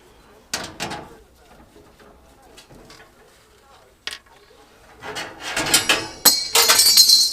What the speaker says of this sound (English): We get this front cover off now.